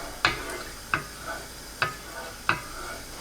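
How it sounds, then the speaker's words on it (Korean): A sweet potato starch jelly mixture is stirred while boiling on high heat, four evenly spaced scraping strokes of a utensil against the pot, close and distinct over a soft bubbling background. "센 불로 저어가면서 끓입니다."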